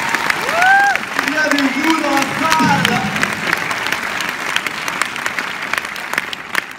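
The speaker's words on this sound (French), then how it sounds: "vous pourrez applaudir Leroux" A cinema audience at a film premiere in Strasbourg applauds loudly and steadily, with cheers and a whistle early on and someone speaking over the clapping.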